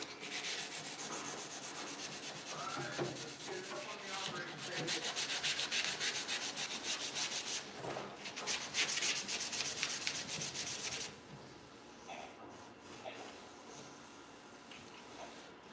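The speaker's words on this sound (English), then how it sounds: "Some people probably wouldn't even sand up in here." Hand sanding on wood, a steady close scratchy rubbing that runs in continuous strokes for most of the stretch, then thins to softer, sparser rubbing near the end.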